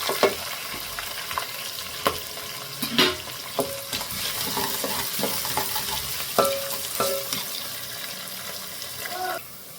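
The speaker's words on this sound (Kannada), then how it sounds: "ಕ್ಯಾಪ್ಸಿಕಮ್ ಎರಡು ನಿಮಿಷ ಫ್ರೈ ಆದಮೇಲೆ ಈರುಳ್ಳಿನ ಹಾಕ್ಕೊಟ್ಟಿದ್ದೀನಿ" Onions and capsicum sizzle steadily in a hot pan, with occasional sharp scrapes and clinks of a spoon stirring, no talking.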